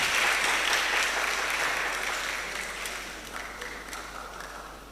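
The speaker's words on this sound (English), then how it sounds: "A round of applause for them whilst they leave the stage." A crowd at a public speaking competition claps steadily in sustained applause, loud at first and gradually fading as it continues.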